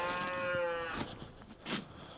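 A cow on a farm lets out one long, close, tonal moo, followed by softer grunting calls from the herd.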